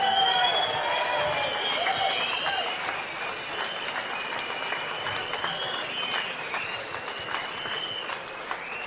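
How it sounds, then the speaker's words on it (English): Crowd applause at a London street demonstration, steady clapping that holds for several seconds and slowly tapers, with scattered cheers and voices mixed in. "Please give her a massive round of applause."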